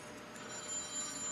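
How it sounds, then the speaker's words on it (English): A phone rings at a steady, fairly quiet level, a thin electronic tone holding on through the moment with no talking over it. "my phone is going nuts"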